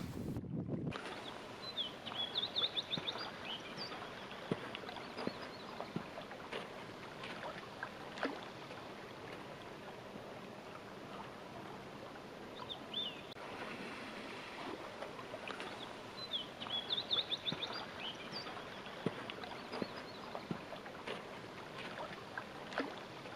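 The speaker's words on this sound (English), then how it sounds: "My brother launched his inflatable kayak first." An inflatable kayak being launched from a campsite shore onto Big Lake in the Oregon Cascades, with faint water sloshes and light knocks against a quiet outdoor background of soft wind.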